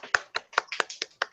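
Seven quick, sharp claps tapped at a steady, even pace, light and polite in the manner of a golf clap, close and dry with no talking.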